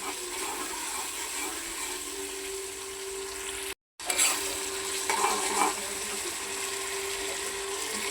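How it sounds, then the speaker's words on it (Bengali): Curry spices stir-fried in a kadai after a splash of water is added: a constant bubbling sizzle with stirring scrapes, briefly cut off by a moment of silence midway, then continuing with a few louder spatters. "কষানোর জন্য একটু পানি দিয়ে দিলাম"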